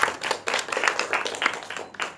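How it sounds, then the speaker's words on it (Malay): A classroom of students clapping for a classmate in a hand-sewing lesson, a short burst of uneven, fairly close claps from a small group that fades out after about two seconds. "berikan tepukan pada Nasra."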